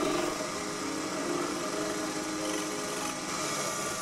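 Metal lathe turning an M10 external thread in leaded mild steel with a single point tool, a steady continuous machine whir and hum with faint high grinding tones, close and unbroken throughout.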